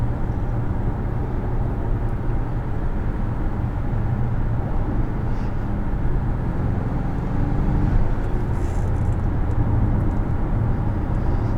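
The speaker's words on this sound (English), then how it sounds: "Road noise while cruising on the highway here, not bad at all." Steady low road and tyre rumble fills the cabin of a 2021 Infiniti QX50 Autograph cruising on a highway, a constant muffled drone with faint wind hiss and no other sounds.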